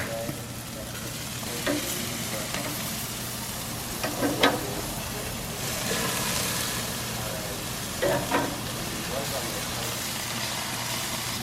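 Orange and clove marinated chicken sizzles steadily in a pan after being flipped, a continuous close frying hiss with occasional scrapes and clicks, while someone talks now and then.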